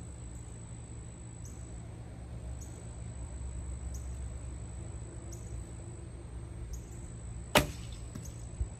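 An arrow released from a shortened 58-inch fire-hardened hickory self bow at a deer target 25 yards away gives one sharp, loud snap and thump near the end, set against a quiet outdoor background with steady crickets.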